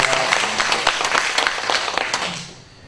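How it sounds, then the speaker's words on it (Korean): A church congregation at a Sunday service claps together, a lively burst of many hands with a few sharper slaps standing out, fading off toward the end. "하나님께 영광의 박수 올리도록 하겠습니다."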